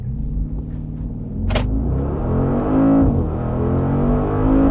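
A 2020 Mercedes-AMG G63 with a hand-built twin-turbo V8 making 577 horsepower accelerates hard without launch control, a loud, close engine roar that builds and swells steadily over several seconds, with no talk.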